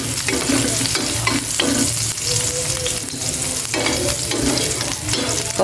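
Onion and garlic sizzle in a frying pan while being stirred, a steady close frying hiss broken by repeated scraping strokes of the utensil.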